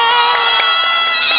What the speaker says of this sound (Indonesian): Tepuk tangan untuk Kak Igun.